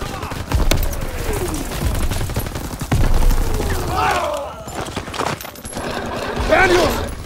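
Gunfire during a Call of Duty WWII battle: scattered shots and bursts crack through a dense wartime din, with shouted voices and other combat noise layered over the top.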